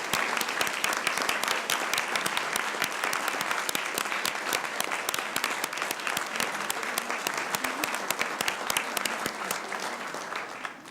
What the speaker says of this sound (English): Let's give them a round of applause for all they do